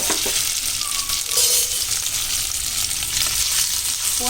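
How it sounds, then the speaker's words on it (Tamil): Cut potatoes frying in hot oil in a pan for a potato fry, a steady loud sizzle with scraping stirs, no voices. "இந்த எண்ணெயிலே கொஞ்சம் லைட்டாக அப்படியே வறுப்படணும்"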